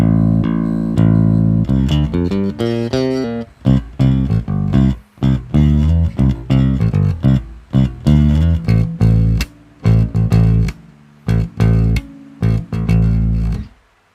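Fender Urge Stu Hamm signature electric bass played alone with all three pickups on, a full, bright tone, a run of plucked notes and short riffs with brief pauses, close and loud.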